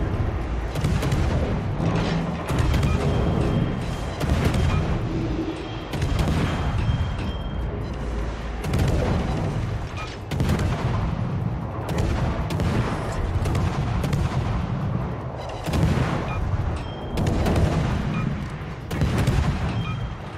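Naval gunfire in World of Warships, with repeated heavy booming salvos and rumbling explosions over a dense, continuous battle din, loud and sustained throughout.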